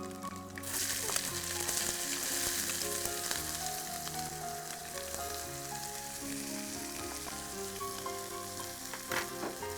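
Steady, crackling sizzle of chopped onions and whole garlic frying in hot oil, loud and close, with occasional sharper pops and stirring sounds throughout.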